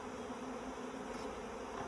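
Honeybees at an opened hive during a varroa mite check give off a steady, dense buzz that holds close and constant throughout.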